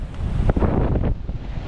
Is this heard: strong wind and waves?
yes